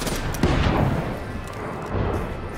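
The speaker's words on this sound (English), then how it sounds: "you're going to see that I'm shooting at some tombstones that are on this floating rocks out here" Loud bursts of gunfire in Black Ops 3 Zombies, shots aimed at tombstones on floating rocks, with booming impacts and steady battle noise throughout.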